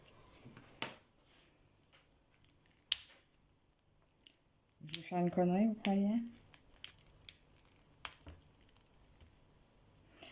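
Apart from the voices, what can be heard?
scissors point prying open battery compartment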